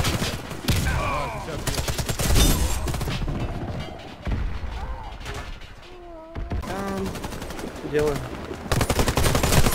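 Video game gunfire crackles in rapid automatic bursts, close and loud, separated by brief pauses, while players talk in Russian over it.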